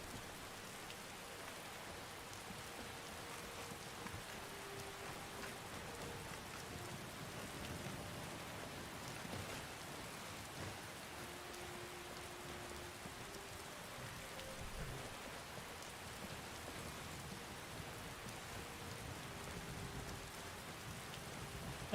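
Steady rain in the video game Skyrim falls throughout, a soft continuous patter at low volume with faint tonal hums underneath and no speech.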